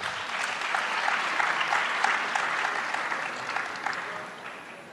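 An audience applauding a panel of five women, a dense, even wash of clapping that swells and then gradually fades away.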